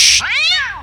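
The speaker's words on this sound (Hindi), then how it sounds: "मेरे पिछवाड़े में रोज रात को एक बिल्ली निकल आती है" A cartoon cat gives a single rising-and-falling meow, loud and close, following a brief burst of hiss-like noise at the start.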